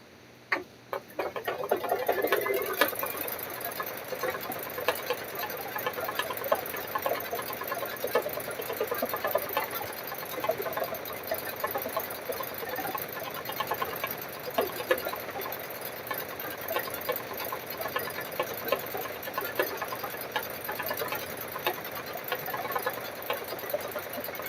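An embroidery machine stitches a keychain held in the hoop, giving a steady rapid mechanical ticking and whirring that starts after a brief pause and runs continuously at close range.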